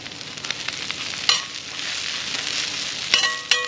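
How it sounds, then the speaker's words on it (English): Mixed vegetables, including cabbage, lettuce, carrots, onion and green onion, sizzle and steam on a hot hibachi grill; a steady hiss runs throughout, broken by a few sharp clicks and scrapes of a spatula. "drop my vegetables down, because these are gonna be steaming"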